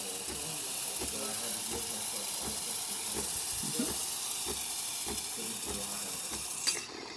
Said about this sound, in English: it's steaming properly and nice